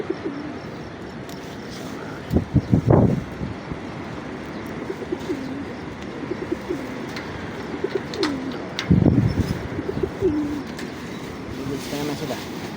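Pigeons coo softly in repeated low, rolling calls over a steady background hum, with a couple of louder rustling bursts, like wing flaps or handling, and occasional faint voices nearby.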